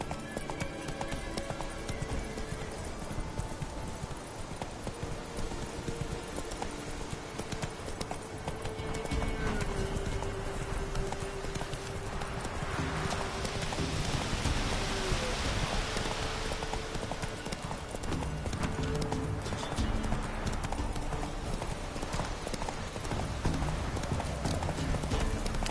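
Roach the horse gallops in The Witcher 3, a steady rapid clip-clop of hooves running continuously at close range over a broad ambient bed, with a brief vocal sound partway through.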